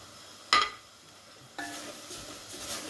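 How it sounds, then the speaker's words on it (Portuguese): Close sizzling of bacon and chouriço sausage frying in a pan, with a sharp clink of a utensil early and a louder burst of sizzle when food is stirred. "O bacon ainda está fritando junto com a linguiça, o chouriço"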